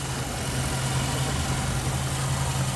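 A 1950 Ford Tudor Custom Deluxe with a flathead engine and Ford carburetors idles close by, a steady, even low hum and purr with no change in pace.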